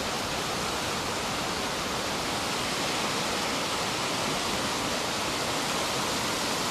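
Rushing creek water along the Wonderland Trail, a dense, steady broadband roar heard close and continuous throughout with no voices.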